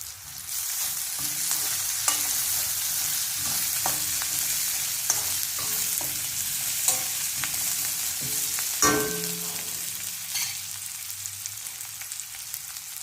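Onions fry in a pan with a little turmeric, giving a continuous close sizzle with periodic scraping stirs and light utensil knocks throughout, with no one speaking.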